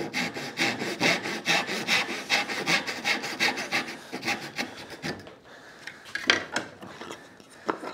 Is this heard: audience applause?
no